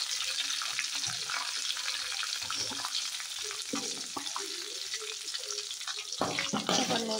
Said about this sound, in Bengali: নেড়ে চেড়ে ভালোভাবে এগুলোকে একটু ভেজে নেব লাল লাল করে।